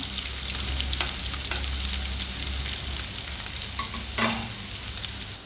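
Finely chopped garlic frying in hot oil in a pan, a steady close sizzle with occasional sharp scrapes and clinks as it is stirred.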